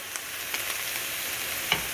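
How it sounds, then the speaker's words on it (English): Chanterelle mushrooms dry sautéing in a pan, a soft steady sizzle with a few faint pops and stirring scrapes over two seconds. "Once you hear that sizzle, you know that all of your liquids have left"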